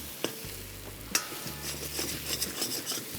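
Jaggery being stirred into a bitter gourd masala in a pan: a spoon scrapes and clinks against the pan over a low sizzle, with a couple of sharper taps, close and without talk.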